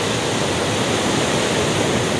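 A river flows below the Ciherang Riverside campsite in Ciwidey, heard as a loud, steady rushing of water that fills the whole stretch without voices.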